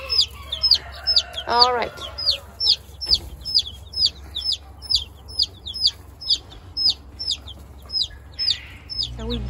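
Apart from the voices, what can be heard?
chickens clucking in an expanded chicken coop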